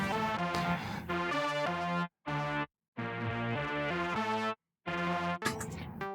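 Electric guitar through a Boss DS-1 distortion pedal into an Eventide H90 phaser program with hot saws, playing loud, sustained harmonic phrases broken by two short silences, heard alone.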